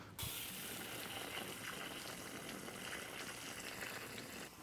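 Muddy water gushing and splashing steadily as it is flushed out of a Yamaha TTR 230 motorbike during a restoration, a continuous close wash of liquid without talk.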